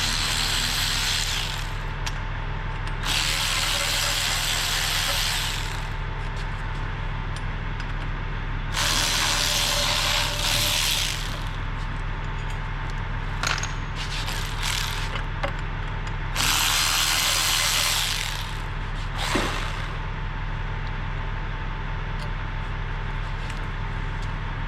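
Ratchet socket wrench in repeated rapid clicking bursts over a steady mechanical hum, close and fairly loud, stopping and starting every few seconds.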